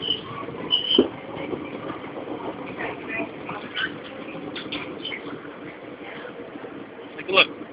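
An elevated subway train on the Brooklyn Broadway line rolling out of a tunnel, a steady rumbling ride with squeals and clanks at intervals, under people talking.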